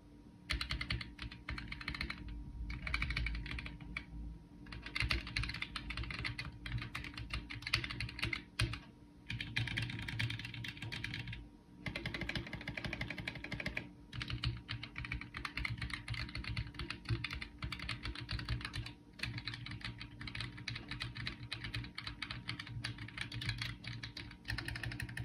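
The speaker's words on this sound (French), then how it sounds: "c'est vraiment très satisfaisant à taper sur ce clavier" Typing on a Roccat Vulcan mechanical keyboard with Titan switches: sustained bursts of crisp, close key clicks and clacks, with short pauses between runs.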